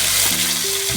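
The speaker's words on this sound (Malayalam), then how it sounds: "ഇനി നമ്മൾ ചുമന്നുള്ളി ഇട്ട്," Shallots dropped into hot oil with popped mustard seeds and curry leaves for a Kerala pork curry crackle in a dense, steady sizzle, a brief close burst of frying.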